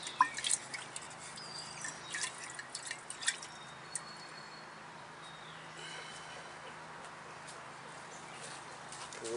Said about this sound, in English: Just pour you a little water in here now and rinse your mason jar out.